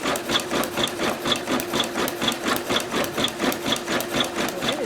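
Singer Legacy SE-300 embroidery machine stitching an in-the-hoop project, with plastic material in the hoop; a close, steady mechanical whir with an even pulse of rapid stitches, about two per second, and no voices.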